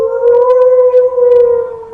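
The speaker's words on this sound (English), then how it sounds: "Everybody about this time hears a howl" A sustained, steady wailing howl for a tabletop game scene, holding two strong tones with faint higher overtones, moderately loud and continuous throughout with no talk, like a distant wolf-like cry or siren.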